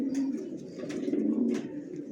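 Racer pigeons, a male among a pair in a loft, give a steady low cooing that runs throughout, close and moderately loud, with faint higher chirps above it and no talk.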